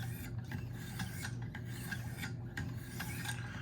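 Knife blade stroked on 1500 and 2200 grit diamond stones in a Wicked Edge guided sharpener, a steady dry rasping with repeated strokes, close and alone.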